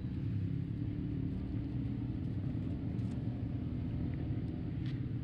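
A Polaris Sportsman 570 EFI ATV engine runs at a steady idle outdoors, a low, even rumble with no revving, with faint brief clicks over it and no voices.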